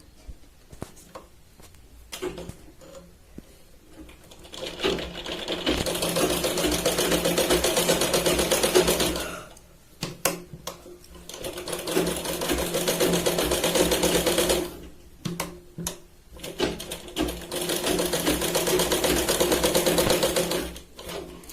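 Sewing machine stitching the curved katori cup pieces of a blouse together, running in long steady loud bursts with brief pauses between seams.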